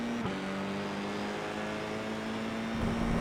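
Formula 4 race car engine in the iRacing sim at Suzuka West, pulling hard as it accelerates, a steady rising tonal drone held at moderate level with a brief shift near the start and a change toward the end, no talk.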